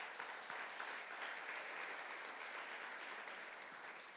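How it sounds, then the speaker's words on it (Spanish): A church congregation claps steadily, a dense and even wash of many hands that holds at the same level for several seconds, slightly distant and with no voices. "Denle un aplauso al Señor."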